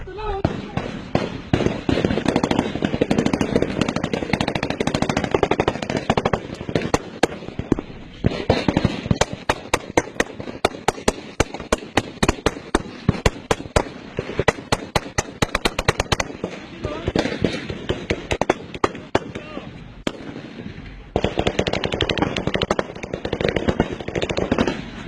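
Gunfire in a police shootout with a drug cartel in Mexico, rapid dense volleys of shots cracking loudly over several seconds with brief lulls, shouting voices mixed underneath.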